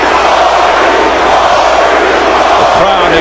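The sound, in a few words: boxing crowd cheering for hometown favorite Cory Spinks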